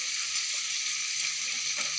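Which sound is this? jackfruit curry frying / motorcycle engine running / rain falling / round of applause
jackfruit curry frying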